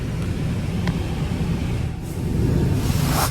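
Wheel blasters on a D&S Quicksilver car wash at Clive Car Wash in Clive, Iowa, spray with a loud, broad hiss over a low machine rumble, and the spray swells stronger toward the end.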